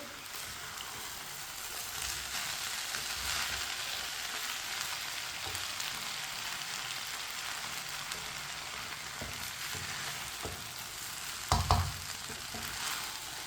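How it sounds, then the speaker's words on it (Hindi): Rice is stirred into fried spices in a pan on the stove for Chinese biryani, giving a soft, steady sizzle with faint scraping and a brief clatter near the end. "अब इसमें चावल डाल लेंगे। इसे मिक्स कर लेंगे।"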